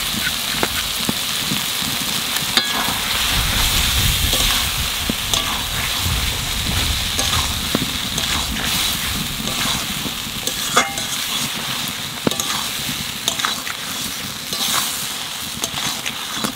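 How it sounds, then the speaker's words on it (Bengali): Squid frying in a pan with spice paste and nut masala, a loud steady sizzle and crackle with frequent scraping stirs throughout. "মশলার সাথে ভালোভাবে কষাই নিছি।"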